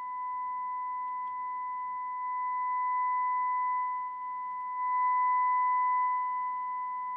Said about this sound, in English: feeding an audible sine wave to one of the amplifier inputs